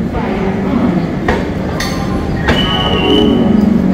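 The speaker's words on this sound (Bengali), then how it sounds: "8 নম্বর প্ল্যাটফর্ম থেকে ট্রেন ছাড়লো।" Mithila Express train pulling away from platform 8 at Howrah Junction, a steady close rumble of wheels and cars with brief metallic clinks and a faint squeal, continuous throughout.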